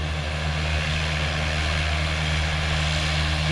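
Propeller aircraft engine drones steadily and loudly as a pilot reverses out near the Bahamas coast, a continuous low rumbling hum with strong wind noise and no talking.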